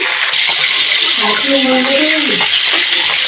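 Chopped green chillies stirred into whole spices frying in a pan, a loud hissing sizzle throughout with a short voice passing over it midway.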